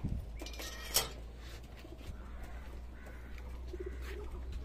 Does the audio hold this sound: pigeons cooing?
yes